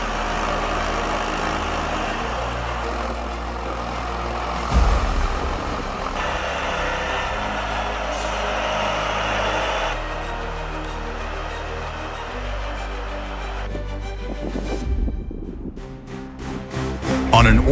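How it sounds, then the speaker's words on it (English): A heavy-duty logging truck hauling a log-laden trailer down a rough, challenging road, its deep engine drone steady and loud throughout with rumbling low end, a heavier thump near the middle and rising strain toward the end. "a heavy-duty truck pulling a log-laden trailer steadily made its way down a challenging road"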